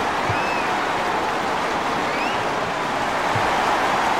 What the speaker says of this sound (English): you can feel the home crowd starting to get a little restless